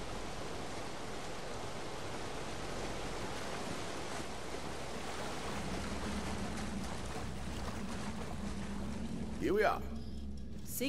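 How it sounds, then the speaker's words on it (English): A waterfall in the Borderlands 3 video game, hiding a secret passage in Blackbarrel Cellars, rushes as a steady broadband wash of water that holds throughout, with a short swooshing game effect near the end. "Secret passage behind a waterfall."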